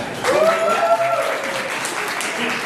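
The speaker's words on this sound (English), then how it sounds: "Clap for this gentleman." An audience at a mental health panel in Los Angeles claps briefly for a man called onstage, short applause with some voices mixed in.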